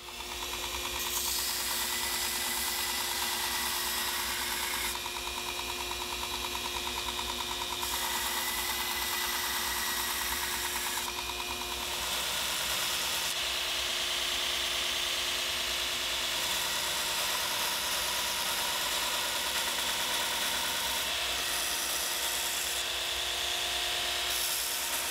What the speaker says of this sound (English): So we're just gonna use the belt grinder to flatten this out a bit.